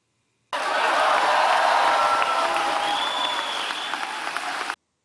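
A comedy show crowd breaks into loud applause mixed with cheering and some laughter, a dense burst of clapping that swells quickly and holds for about four seconds before cutting off.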